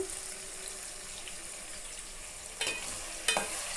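Curry leaves dropped into tomatoes frying in a pan for Andhra fish curry, a soft steady sizzle with two sharp crackling bursts near the end, quiet and close.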